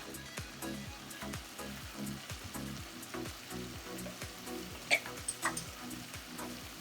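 Chicken curry spices, including cumin powder, kitchen king masala and coriander powder, frying softly in a pan while being mixed, a quiet continuous sizzle broken by rhythmic scraping strokes and a few small clinks.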